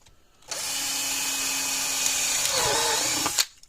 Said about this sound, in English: So now I'm going to drill 2 holes.